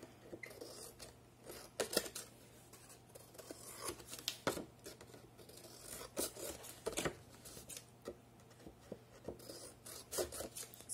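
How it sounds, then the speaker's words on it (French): Scissors snip the corners of a handmade album cover, close and fairly faint, in a series of short sharp cuts with rustling and scraping of paper between them. "Je coupe mes coins."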